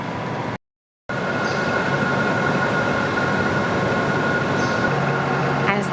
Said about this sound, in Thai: รถไฟไทยธรรมจอดแน่นิ่งๆหน้าที่สถานีกรุงเทพหัวลำโพง